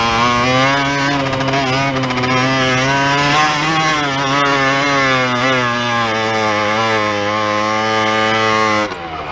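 A Yamaha DT 50 enduro motorcycle climbs rough, uneven ground, its small two-stroke engine buzzing close and loud at high revs, the pitch dipping and rising with the strain before cutting off abruptly at the end.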